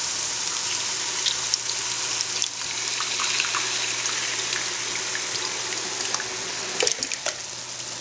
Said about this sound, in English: Now I'm going to add in my tomatoes.